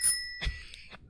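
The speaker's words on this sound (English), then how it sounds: "Bike bell." A bicycle bell rings cleanly twice, the bright metallic tone decaying after each strike, fairly faint against an otherwise quiet room.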